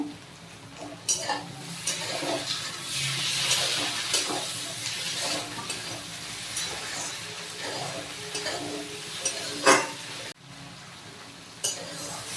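Capsicum, green chillies and tomato added to fried garlic in a pan, sizzling and hissing close up while a spatula scrapes and stirs, with a few louder knocks and a brief faint voice.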